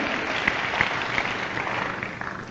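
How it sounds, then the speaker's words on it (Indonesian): Congregation applauding in a church during a sermon on the Holy Spirit, a steady dense wash of clapping that holds at an even level throughout. "Dengan tepuk tangan saudaraku, amin."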